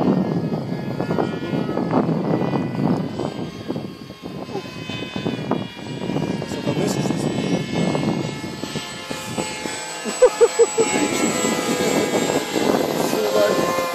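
Several small Depron foam model airplanes fly in formation outdoors, their electric motors and propellers making a steady buzzing whine with the pitch shifting as they pass, while people talk nearby.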